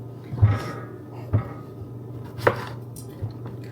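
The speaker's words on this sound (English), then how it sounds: "Gotta chop all of them." Mini eggplants are chopped on a board with a few spaced knife thuds, close and moderately loud against a low background hum.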